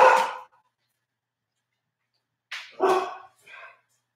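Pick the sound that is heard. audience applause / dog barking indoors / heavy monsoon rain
dog barking indoors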